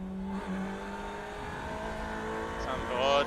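Ferrari 488 race car engine on an onboard lap at the Red Bull Ring in iRacing, a steady high-revving drone with shifting tones and a rising surge near the end, under a commentator's voice.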